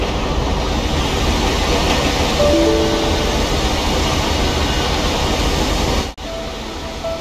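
An Indonesian passenger train in a GTA 5 mod brakes on a curve: a loud, steady rolling roar with a brief thin squealing tone partway through, before the sound abruptly drops out and resumes.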